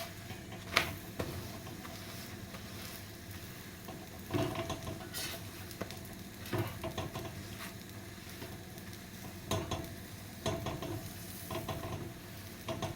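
Aloo paratha frying in a pan and flipped over, a soft sizzle with faint stirring and scraping taps at irregular intervals, fairly quiet and close with no talk.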